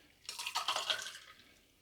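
A cocktail pours over ice into a glass in a short splashing burst close by, starting abruptly and tapering off after about a second, with no talking.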